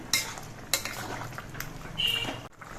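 A shrimp and vegetable curry with black cumin paste is stirred in a pan, giving a few distinct metal utensil scrapes and clinks over a faint low sizzle, with no talking.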